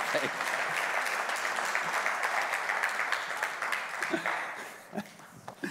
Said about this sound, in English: can everybody give Jim a round of applause?